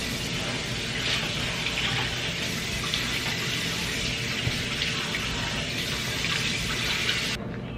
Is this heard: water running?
yes